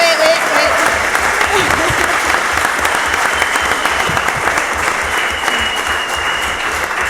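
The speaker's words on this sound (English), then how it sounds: "So just hold your applause for a second." Sustained audience applause at a conference closing plenary for the organizing team, a dense, loud, even wash of clapping that continues unbroken throughout.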